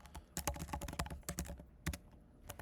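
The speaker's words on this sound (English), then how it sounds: "so I'm typing in" Irregular bursts of clicking keystrokes on a computer keyboard, close and moderately loud, with short pauses between clusters of typing and no voices.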